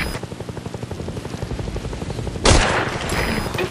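Helicopter rotor thumping in steady rhythm in Metal Gear Solid V: Ground Zeroes, joined midway by a loud burst of gunfire and explosive booms that swell over the chopper drone.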